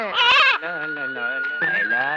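A goat bleats close by in a village, a long wavering bleat that shifts pitch and runs on for a couple of seconds.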